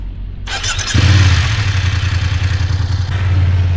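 A motorcycle engine idles up and then runs in a steady, close, rumbling drone as the bike rolls slowly under braking toward a stop, with a brief clatter at the start.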